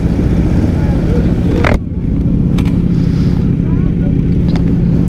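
Motorcycle engines rumble nearby in dense traffic at a car and motorcycle gathering, a continuous motor drone with passing vehicles, while a voice speaks over it.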